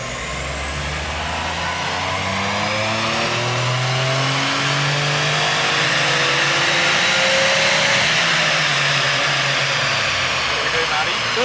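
Subaru tuned to nearly 500 horsepower running flat out on a dyno, a loud sustained engine roar climbing steadily in pitch through the gears over several seconds, with voices faintly underneath.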